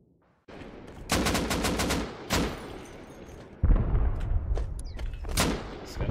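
Bursts of automatic gunfire loaded with explosive ammo in the Rust video game, rapid loud cracks in several volleys with booming impacts, close and dense.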